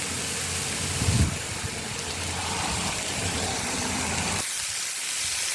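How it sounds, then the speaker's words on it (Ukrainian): Vegetables for a lenten Ukrainian borscht fry in a pan over medium heat, giving a steady close sizzle that drops away sharply near the end. "трішечки обсмажуємо"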